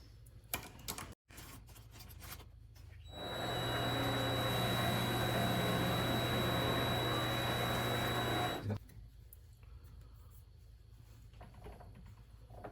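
A metal lathe faces off a mounting sleeve: a steady motor whine with the hiss of cutting rises for about five seconds, then stops, with quiet shop ambience before and after.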